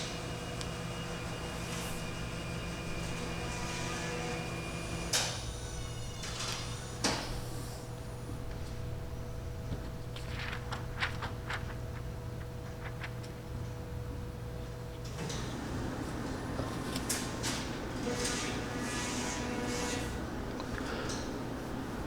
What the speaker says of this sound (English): here's the sound of the risograph in all its glory